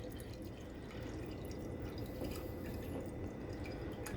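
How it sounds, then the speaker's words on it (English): Room-temperature filtered water pours steadily for homemade dill pickle brine, a continuous close trickle and splash with drip-like texture that holds an even level from start to finish. "I'm gonna go ahead and pour in my normal room temperature water."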